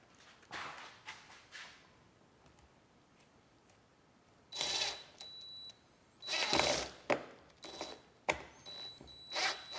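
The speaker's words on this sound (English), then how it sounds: "And I'm going to screw it in." A screw is driven into an orange epoxy table build in several short powered bursts with a whining motor and clicking, separated by quiet pauses and faint handling sounds.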